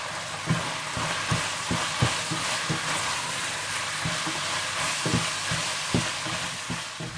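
Minced meat fries with crushed black and red pepper, salt and a chicken cube in a pan, a continuous close sizzle broken by regular thuds and scrapes of a spoon stirring through it.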